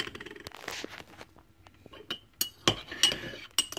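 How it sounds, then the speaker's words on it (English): A spoon stirs Postum coffee-substitute drink in a mug, giving close, bright clinks against the ceramic in an irregular rhythm with soft scraping between them. "you just want to take your spoon and stir that around and make sure you give it a nice stir"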